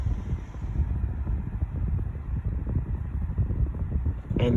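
A 1988 Holmes Air 12-inch oscillating table fan runs on its medium setting, a steady close whooshing hum of moving air with slight buffeting and a faint click at the end, no talking.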